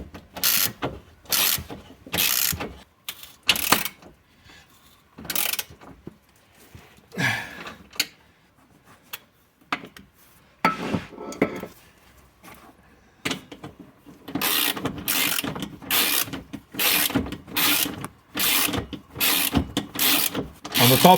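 A ratchet tightens the oil sump bolts on a 2.2 JTDm2 Alfa Romeo Stelvio in quick bursts of rapid clicking, separated by pauses and softer handling and rubbing noises.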